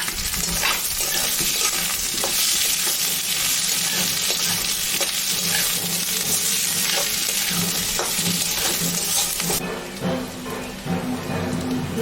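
Chopped onion goes into a pan of frying potatoes with chilli and bay leaf, giving a loud continuous sizzle with scattered stirring scrapes; the hiss drops noticeably near the end.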